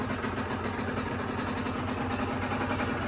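A 2020 50cc motorcycle engine idles steadily and evenly in a workshop, close by, with a constant low putter throughout.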